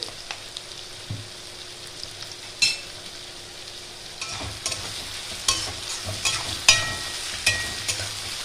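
Onions frying in a pan with a pinch of salt, cooked until reddish-brown, with a soft steady sizzle broken by several sharp scraping stirs of a spatula; nobody speaks.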